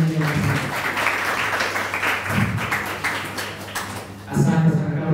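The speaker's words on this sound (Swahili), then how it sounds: "makofi mengi." Applause from a crowd at a Swahili-language public talk about Palestine, steady clapping throughout with a brief swell near the end, mixed with some background voices.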